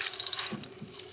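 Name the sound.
ratchet cranking to loosen 10mm screw on minivan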